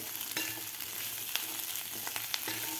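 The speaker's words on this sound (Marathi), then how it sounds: "ही भाजी मी दोन ते तीन मिनिट परतून घेतलेली आहे" Potato bhaji sautéed in a pan, a soft steady frying crackle broken by scattered scrapes and taps of a spoon stirring, close by, with no voice.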